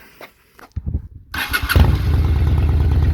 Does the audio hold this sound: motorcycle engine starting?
yes